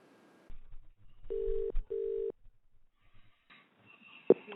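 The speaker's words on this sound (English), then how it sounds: "But the phone call was interesting." A telephone rings on a recorded phone call, with two steady, evenly spaced ring tones of equal length, followed by faint line noise and a short click.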